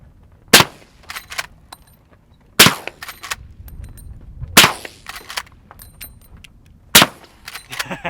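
Suppressed gunshots from a rifle firing zinc bullets, four sharp loud cracks spaced a couple of seconds apart, each followed by faint distant clanks of hits on jugs, outdoors with no talking.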